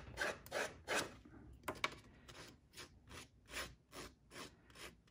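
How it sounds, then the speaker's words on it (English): Paper edge being shaved with scissors or a paper distresser, a series of short rasping scrapes in an uneven rhythm, close and fairly quiet with no talk. "Just shave that edge of the paper."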